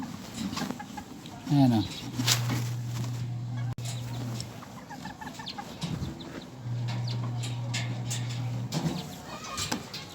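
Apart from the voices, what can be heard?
chickens clucking in a small backyard coop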